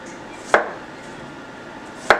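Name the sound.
knife chopping cucumbers thick for salad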